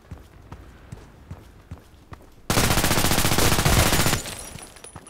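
Shots ring out in the online shooter Contract Wars, first as single reports spaced about a second apart, then a loud, dense burst of rapid automatic fire lasting nearly two seconds.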